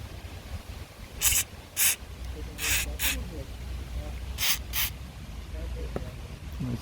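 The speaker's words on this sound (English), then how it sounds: "let's spray a little bit in the WD-40" Short aerosol bursts of WD-40 sprayed into the sticking door handle of a Renault Megane 2, five or six quick hissing spurts in an uneven rhythm over low background noise.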